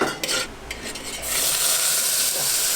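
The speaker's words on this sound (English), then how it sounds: "Fry up the cashews." Cashew nuts fry in a pan in an Indian kitchen, opening with scraping stirs against the metal, then settling into an even, loud sizzle.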